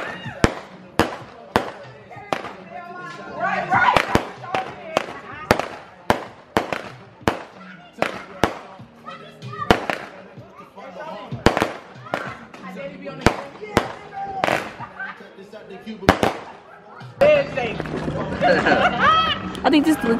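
Sharp Fourth of July firework bangs crack repeatedly in an irregular string, some loud and close, while people chatter and laugh throughout.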